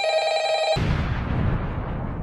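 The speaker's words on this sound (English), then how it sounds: "She goes in her office to be met by a phone ringing." A telephone rings in a Five Nights at Freddy's themed setting, a bright electronic tone that cuts off sharply and gives way to a loud, broad rumbling noise that gradually fades.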